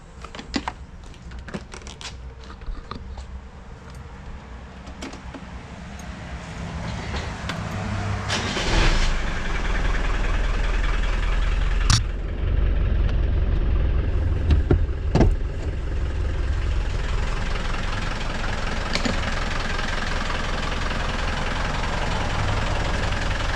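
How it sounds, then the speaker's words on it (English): A Land Rover Defender 90 with a 300Tdi diesel engine clatters as it starts, then settles into a steady, loud idle with a constant low rumble and no talk over it. "I'll fire it up and we can see the engine run here."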